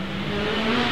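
An engineless electric race car driven hard gives a brief, steady, whining roar with a rising electric tone, close and fairly loud, heard on its own.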